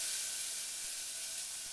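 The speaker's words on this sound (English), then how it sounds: "the first thing to do is to simmer fry your cut vegetables" Cut raw vegetables fry in a soup pot, giving a steady, even sizzle and hiss with no talking.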